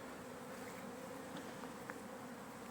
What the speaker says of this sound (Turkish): arılar çalışıyor arkadaşlar